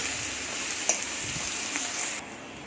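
Onions frying in oil in a pan make a dense, continuous sizzle heard up close, with one faint tap partway through before the hiss drops slightly near the end; no talking.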